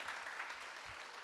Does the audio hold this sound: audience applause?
yes